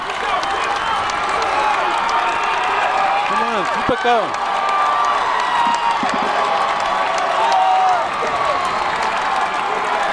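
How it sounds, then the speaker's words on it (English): A large American football crowd roars and cheers continuously, loud and sustained, while a nearby voice shouts encouragement over the din. "You hear the crowd."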